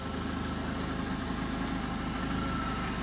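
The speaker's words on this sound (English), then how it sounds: "I'm going to pick up 2 bins at a time with the forklift." A forklift engine idles steadily nearby with a low, even rumble and faint vibration, while it picks up two bins on a farm; no talking.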